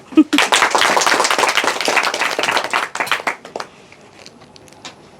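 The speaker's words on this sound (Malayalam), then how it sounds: "ക്ലാപ്പ് ചെയ്തോളൂ." Lively round of applause from a small group celebrating a channel milestone, many hands clapping loud and close for about three seconds before fading to a few scattered claps and quiet room noise.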